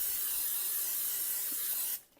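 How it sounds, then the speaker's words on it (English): Canola oil cooking spray hisses out of a can into cups for an enchilada casserole, one continuous close spray for about two seconds before it cuts off abruptly. "I'm just going to spray them generously"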